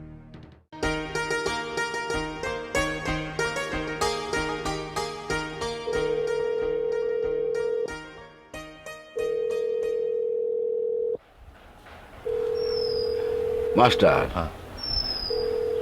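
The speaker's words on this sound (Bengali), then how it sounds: "রিং তো হইতেছে," A phone call's ringback tone sounds as repeated steady beeps with pauses between them, following plucked music at the start, with a brief voice and rustling near the end.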